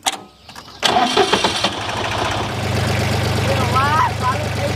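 A tractor engine cranks and catches after a brief quiet stretch, then settles into a steady, close, low idle with a rough chugging rhythm for the rest of the clip, while voices talk over the start.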